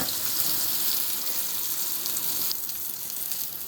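Pointed gourd (potol) frying in a pan, a dense, steady close-up sizzle that drops slightly in level partway through, with no voices.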